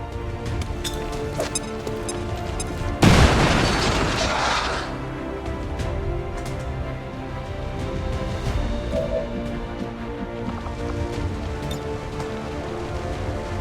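A grenade goes off in XCOM 2 with a single loud, sudden boom and a crackling burst of debris that fades over a second or two, set against a steady bed of game ambience and music.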